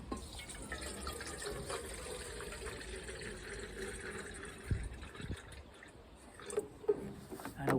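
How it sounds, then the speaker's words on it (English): Water runs steadily into a kettle, a soft continuous pouring close by, with a few light clunks near the end. "we're going to put the water in the kettle"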